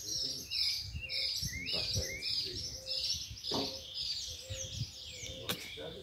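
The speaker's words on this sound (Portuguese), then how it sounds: "Escuta os passarinhos lá no fundo" Several birds chirp and tweet repeatedly in the woods along the Turvo River, overlapping calls with scattered soft knocks and rustling nearby.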